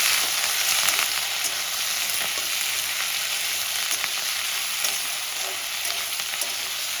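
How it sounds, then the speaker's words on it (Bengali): Potatoes and spring onions fry in hot oil tempered with black cumin and green chili, a loud, dense, continuous sizzle that holds steady up close for the whole stretch, with no voices. "ফোড়নটা একটু ভেজে দেবো আমি পেঁয়াজ তুলি আর আলুটা দিয়ে দিয়েছি"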